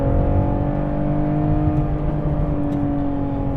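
A 2023 Toyota GR Supra with a manual transmission accelerates hard, its engine giving a loud, steady, rising drone heard close from inside the car with no talking.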